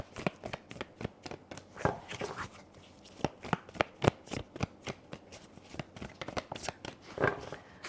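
Tarot cards shuffled by hand during a card reading, a dense run of crisp riffling flicks and soft slaps in irregular bursts, close and fairly quiet, with no talking.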